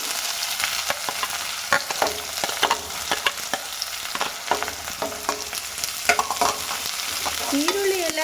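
Onions fry for horse gram sambar, a loud steady sizzle close by with repeated scraping stirs of a spatula against the pan.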